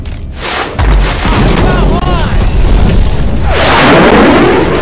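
Explosions from a grenade launcher in Left 4 Dead 2, loud booming blasts running through the whole stretch amid dense game noise, with a burst of crackling debris near the end.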